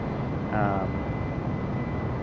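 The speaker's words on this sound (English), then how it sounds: "You can hear those engines start to spool down now as we hit our target airspeed of 320 knots" Jet engines of an airliner in Microsoft Flight Simulator spool down while cruising over the Oregon desert toward Boise, a steady broadband roar with a brief whining tone partway through.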